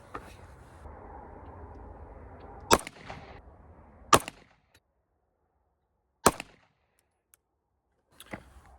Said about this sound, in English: We'll go shoot the plated bullets now.